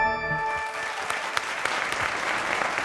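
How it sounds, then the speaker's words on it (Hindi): Applause from a studio audience on an India-themed TV quiz show, greeting a correct answer; dense, steady clapping fills the whole stretch at a near, fairly loud level, with no talk over it. "तालियां सब कुछ कह देती हैं."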